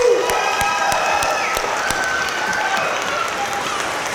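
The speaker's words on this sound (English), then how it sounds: "let's put a big round of applause for your children again." Audience applause fills a school hall after a third grade orchestra concert, a steady, loud wash of clapping with a few cheers running the full length without a break.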